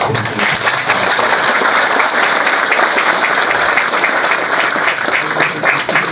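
Sustained, dense applause from a crowd at a political party executive meeting, steady and loud throughout with no speech over it.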